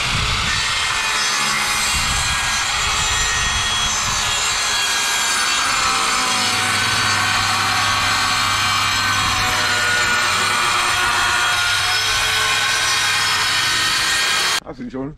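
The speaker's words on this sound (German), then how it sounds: "Aber die billige Aldi-Säge, die kannst du abhaken." A cheap Aldi handsaw cuts through a board with continuous rasping strokes, loud and close, running nearly without pause before stopping abruptly at the end.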